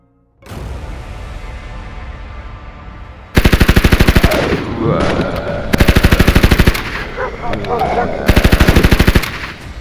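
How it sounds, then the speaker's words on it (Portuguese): Bursts of rapid machine-gun fire rattle loudly in several volleys over a rumbling battle din, with deep explosion booms and clatter between the bursts. "O som de explosões e tiros consomem todo o ambiente"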